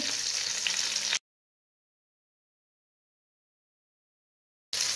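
Stuffed pigeon sears in a hot pot, giving a steady, hissing sizzle for about a second before cutting to silence, then briefly resuming at the end.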